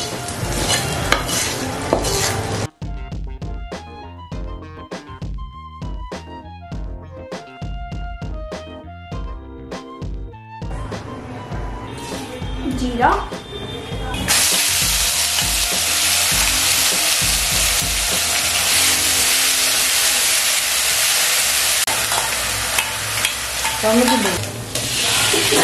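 Food being stirred and fried in hot oil for a Bengali new year lunch. Loud sizzling builds and grows constant, with music playing over the first part and no talk.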